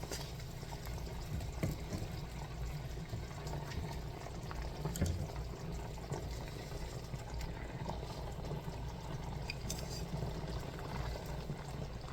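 A pot of liquid with a touch of chicken flavoring simmers on the stove, ready for about six peeled, chopped potatoes, giving a steady, moderate bubbling hiss throughout with no talking.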